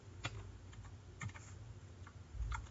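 Fingers tap out a number on a computer keyboard while entering data into an Excel spreadsheet, a quiet run of separate clicks in a few short bursts with a pause between them, no one talking.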